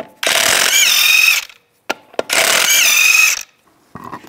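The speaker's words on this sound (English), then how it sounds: "take the lug nuts off." A ratchet with a 19 mm socket spins lug nuts off the wheel of a 2001-2008 Chevy Trailblazer, giving two loud, close, rapid clicking bursts separated by short pauses and a couple of sharp knocks.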